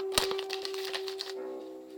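A sharp snip followed by a run of quick, crisp cutting clicks and crackles as scissors slice down the side of a plastic bottle, then a quieter hum.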